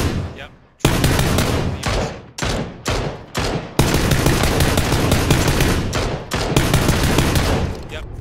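Loud gunfire in PUBG comes in sharp bursts and short gaps at first, then turns into sustained rapid automatic fire close by, with brief pauses between strings of shots.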